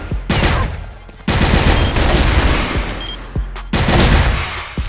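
Rapid bursts of video game gunfire crack repeatedly in close succession, loud and sharp, with brief pauses between volleys.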